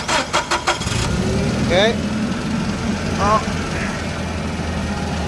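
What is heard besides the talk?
Komatsu forklift engine cranking, starting and idling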